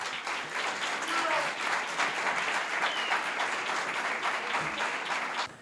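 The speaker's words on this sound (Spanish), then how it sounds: "Un fuerte aplauso para él." Sustained applause from an audience at a chemistry talk at the Universidad de La Rioja, dense and steady for several seconds before tapering off at the end.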